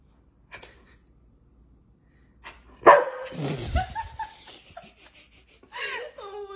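Border collie barking during a car wash, a sharp loud bark after a quiet start followed by a few more yips, with laughter mixed in and a burst of voice near the end.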